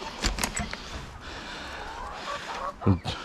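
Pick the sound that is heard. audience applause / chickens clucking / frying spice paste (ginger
chickens clucking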